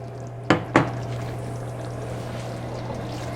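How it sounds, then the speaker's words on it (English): Water poured into a pot of beef in red chile sauce, two quick splashy bursts near the start followed by a low steady kitchen hum, no talking. "Now I'm gonna add some water."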